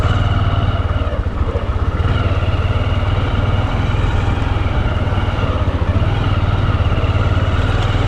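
A Honda SP125 motorcycle ridden along a sandy beach, its engine droning steadily and close by with a throbbing low rumble and slight swells in pitch throughout, with no talking.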